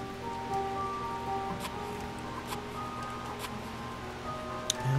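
Rain ambience in the video game Animal Gods forms a steady, soft patter of falling rain with scattered drop ticks and faint tonal music lines underneath, continuous and even.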